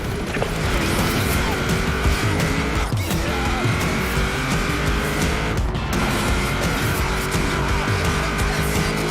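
A car drifts in Forza Horizon 4 with a loud, continuous roaring engine and sustained tire squeal, close up and unbroken, with brief sharper skids around a couple of moments.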